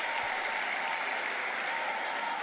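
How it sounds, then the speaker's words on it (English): A large crowd at the State of the Union address applauds steadily, a dense, even wash of clapping that stays loud throughout. "Joe Biden got an applause line from Ted Cruz."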